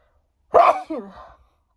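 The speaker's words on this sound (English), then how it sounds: "I'm going to sneeze." A single short sneeze, sharp burst followed by a quick trailing breathy tail, close and alone.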